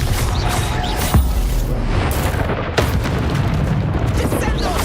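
Fire spell explosions in a Hogwarts Legacy wizard duel, a steady roar of blasts with sharp booming hits near 1.2 and 2.8 seconds, loud and close, over dense game combat noise.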